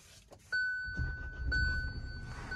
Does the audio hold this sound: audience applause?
no